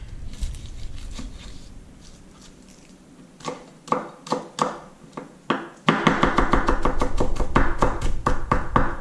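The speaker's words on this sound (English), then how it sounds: "go ahead and chop some seasonings. Of course you need some onions." Knife chopping a leftover onion on a cutting board, sharp rhythmic strikes starting sparse and quickening into a steady rapid patter, close and fairly loud with no talking.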